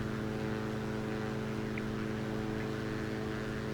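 Diamond DA62 twin-propeller aircraft climbing through about 4,000 feet toward 5,500 in X-Plane 12, a steady droning engine hum with layered tonal bands, constant and unbroken throughout.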